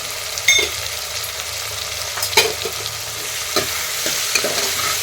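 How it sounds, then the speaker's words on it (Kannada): Vegetables salted and frying in oil for vangi bath hiss and sizzle continuously, with a few spoon scrapes and stirring clinks, close up and without speech. "ಇವು ಸ್ವಲ್ಪ ಎಣ್ಣೆಯಲ್ಲಿ ಫ್ರೈ ಆಗಲಿ"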